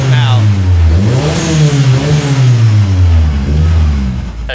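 A Nissan 240SX race car engine revs up and down close by, a loud rough growl rising and falling over several seconds, with voices partly heard under it.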